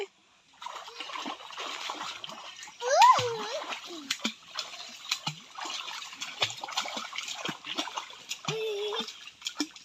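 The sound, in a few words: water splashing as a child learns to swim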